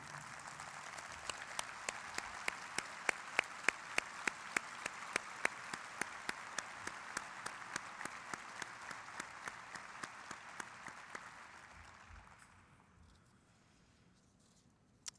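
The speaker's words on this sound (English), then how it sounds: "Shirley needs to be recognized with a round of applause" An audience gives a sustained round of applause, dense clapping with a few sharper nearby claps standing out, gradually thinning and fading away into quiet.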